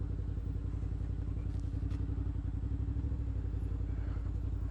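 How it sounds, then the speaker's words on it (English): A 2019 Suzuki V-Strom 650 running at low revs, a steady, even, mid-pitched engine throb with faint clatter, constant and moderately quiet throughout, with no talk. "The engine is geared so well you can practically idle it, tractor it up"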